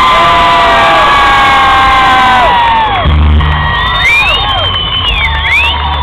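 An audience at Cornfest, an outdoor festival, cheers and whoops loudly, with shrill shouts and rising yells over a dense crowd roar that continues without a pause.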